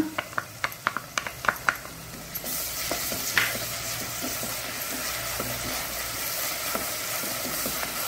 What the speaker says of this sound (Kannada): ಸ್ವಲ್ಪ ಟ್ರಾನ್ಸ್ಪರೆಂಟ್ ಆಗೋ ತನಕ ಚೂರು ಹುರಿಯೋಣ.